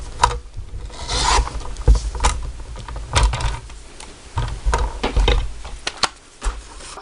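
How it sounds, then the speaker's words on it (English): Paper trimmer slicing cardstock, heard as close, irregular scraping and sliding strokes with small knocks and taps, moderately loud, no voices. "I'm going to grab my paper trimmer and I'm going to trim off about 1/2 inch to 1 inch from the top"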